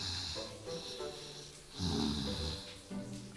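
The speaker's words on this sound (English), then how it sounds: "It lets out adorable snores that make you want to pet it." A fluffy pink creature in the game Mythic Love: Iberian Legends snores in slow, raspy breaths that rise and fall steadily, close and moderately loud, with one deeper snore near the middle.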